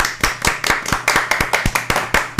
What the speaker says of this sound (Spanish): Vamos a dar aplauso, por favor.